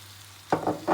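Chicken pieces added to a pan of fried ginger-garlic paste and mashed tomato for pepper chicken gravy: a faint hum, then a sudden close sizzle with stirring scrapes in two bursts.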